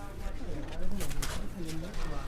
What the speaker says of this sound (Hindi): और ये है इनके कबूतर।